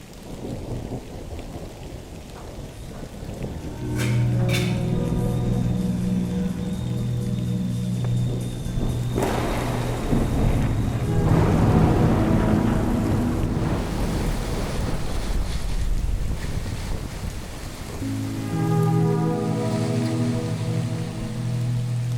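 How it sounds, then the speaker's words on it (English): Thunderstorm with steady heavy rain and loud rolling thunder claps, continuous and close, with no voices. "You arrived just in time to catch a Jobic thunderstorm."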